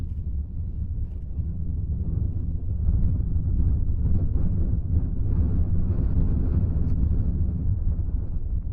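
Wind roaring and buffeting against a microphone, a dense low rumble that stays steady and loud for the whole stretch, with no voices.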